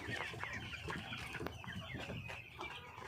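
A flock of Tiger poultry chickens clucking busily while being fed, overlapping close-up clucks and squawks in a steady farmyard chorus with no talk.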